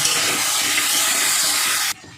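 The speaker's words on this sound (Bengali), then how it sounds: "দেখুন আলুটা ভাজা হচ্ছে।" Potatoes fry in a pan over medium heat with salt and turmeric, giving a steady, loud hissing sizzle that holds evenly for about two seconds and then cuts off abruptly.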